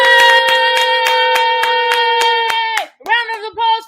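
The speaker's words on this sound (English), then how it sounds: "Let's give her a round of applause." An audience claps in quick regular beats under a loud, sustained voice that holds a high cheering tone, then breaks off and wavers near the end.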